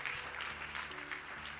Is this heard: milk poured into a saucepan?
no